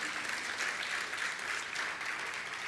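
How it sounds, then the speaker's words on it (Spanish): A church congregation applauds steadily and continuously, a dense, even patter of many hands clapping at a moderate distance. "¿Cuánto le dan un aplauso fuerte a Jesús?"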